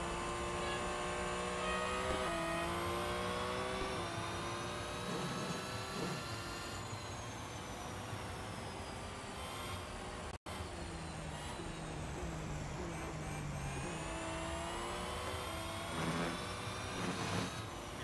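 A race car engine in the Real Racing 3 video game drones and whines steadily, its pitch climbing through gear changes and dropping sharply under braking before rising again, loud and continuous with no talking.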